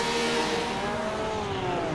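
A GT3 race car engine revving at a standing start at the Nürburgring in a racing game, Porsche esports Supercup: a loud, continuous high engine drone with rising and shifting tones, with no gaps.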